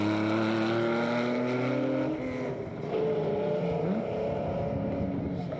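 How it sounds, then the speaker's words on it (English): A 1994 Ford Mustang rally car driven hard on a tarmac stage at Norris Arm, Newfoundland. Its engine snarls loud and close with shifting pitch as it revs, lifts and pulls again, and no voices are heard. "Now Ontario's Afshin Montezeri pushes his 94 Mustang a bit too hard here at Norris Arm."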